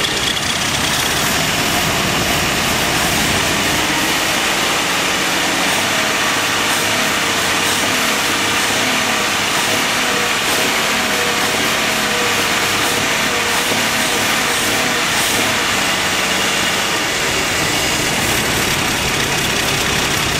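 A 1980s-era AMC Eagle engine runs steadily in a loud, continuous drone, idling with a slightly uneven rhythm and possible intake manifold leak, without obvious sharp revving; no talking.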